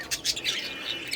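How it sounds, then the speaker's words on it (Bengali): Two caged budgerigars give a few sharp, bright squawks and chirps in quick succession, close and fairly loud, with no talk over them. "আর এখানে দেখেন কারা কারা আছে এখানে আছে আমাদের দুইটা বার্জি"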